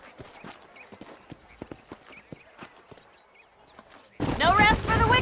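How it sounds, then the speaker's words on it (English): Horses' hooves in Red Dead Redemption clop in an irregular rhythm of sharp, fairly close hits, then a louder burst of voices takes over near the end. "These are fine horses."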